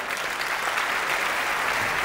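Dense, steady applause from a concert audience greeting the band at a live classics show with a chamber orchestra, loud and continuous with no talking over it.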